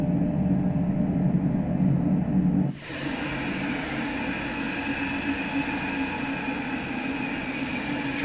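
A BR403 DB high-speed train running on the Kassel route in Train Sim World 3, heard as a steady mechanical rumble with wheel and rail noise; a low interior drone gives way partway through to a brighter, airier running hum.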